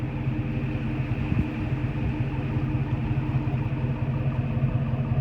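A 2006 Ford F150 with a Black Widow exhaust sits at a steady, low, burbling idle. The sound stays close and even throughout, with no voices.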